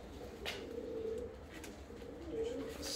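Soft, repeated cooing from a pigeon or dove at a low level, a few muffled calls spaced apart over faint background noise with no talk.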